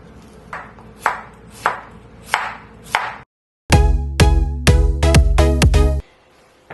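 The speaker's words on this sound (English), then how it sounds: "Chayote, peel and cut into strips." A knife chops peeled chayote into strips on a board: about six evenly spaced, crisp cuts, then a brief pause, then a louder, faster run of closely spaced chops before the sound stops abruptly.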